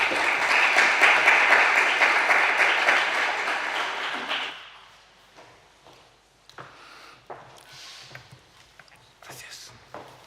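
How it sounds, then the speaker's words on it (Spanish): Audience applause welcoming four panelists at a round-table talk on Spanish cultural history, dense clapping for about four seconds, then fading to scattered claps, shuffling and movement. "les voy a pedir que les demos a los cuatro un aplauso de bienvenida"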